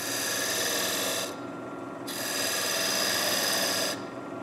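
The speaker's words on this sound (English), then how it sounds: "Parting tool at a slight angle." A parting tool held at a slight angle cuts stripes into a wooden spinning top on a lathe, making a steady close rasping scrape in two long passes split by a brief pause.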